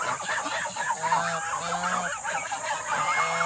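A goose honks repeatedly among other farm fowl such as ducks and turkeys, steady nasal calls overlapping a dense, continuous background of clucking and bird chatter.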